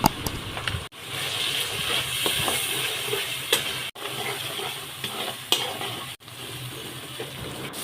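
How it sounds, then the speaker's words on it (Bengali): Spice masala of turmeric, chili, coriander and cumin powders frying in a pan with a little water, giving a steady wet hiss and sizzle broken by a few short clicks and stirring knocks. "কিছুক্ষণ ভাজার পরে সামান্য পানি দিয়ে হলুদ গুঁড়ো মরিচ গুঁড়ো ধনিয়া গুঁড়ো জিরা গুঁড়ো দিয়ে মশলাটি কষিয়ে নেব"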